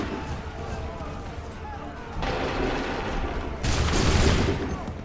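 Massed musket fire in Assassin's Creed III Remastered on Xbox One: two sharp volleys, one at mid-clip and a louder one near the end, crackle over a dense battlefield din with voices in the background.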